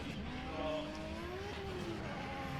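Nissan ER34 Skyline drift car accelerating on a Formula Drift Japan qualifying course, a steady engine drone with rising harmonics, somewhat distant and continuous under crowd and track ambience.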